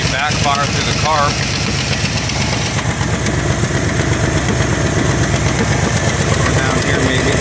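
A 1978 Jeep J20 truck engine idling roughly with an uneven knocking pulse, loud and close, while people talk over it.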